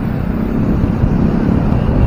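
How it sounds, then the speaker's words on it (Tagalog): Strong wind buffets the microphone in a steady, heavy roar with low rumbling, constant throughout and no voices, at C4, Navotas. "ang lakas ng hangin"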